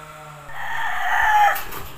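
A McLean gamefowl rooster lets out one loud, close crow that rises and holds before cutting off, with brief clucking from the flock before and after.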